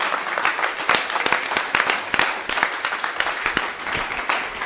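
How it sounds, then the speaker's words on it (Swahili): A church congregation applauding during a Sunday service, a dense, steady roar of many hands clapping at once, loud and continuous throughout with no break. "Makofi mazuri."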